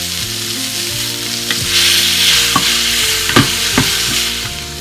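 Peppers frying in a pan with ground cumin, salt and dried Mexican oregano, making a steady close sizzle broken by several sharp stirring scrapes and clicks, with no talking.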